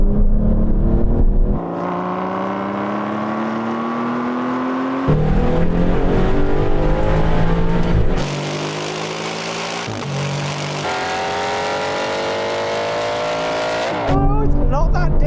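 Loud engines of Aston Martin race cars, including a GT8, roar and rise in pitch through repeated gear shifts, several cars accelerating hard together from a 50 third-gear rolling drag race start, with brief drops between gears.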